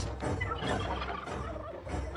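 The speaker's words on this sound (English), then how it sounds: "I have assembled an army of turkeys loyal only to me" A small flock of turkeys gobbles in rapid, overlapping bursts close by, loud and chaotic for about two seconds with no talking.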